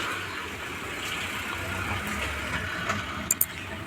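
A family car is started and taken out from a home in a residential colony, its engine idling in a steady low rumble close by, with a couple of sharp clicks near the end and no talking.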